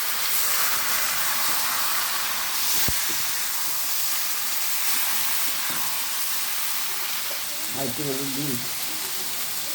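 Boiled dudman kochu stalks fry in a pan with dried chilli and white cumin, giving a steady loud sizzle and hiss, with a brief clatter and a short voice near the end.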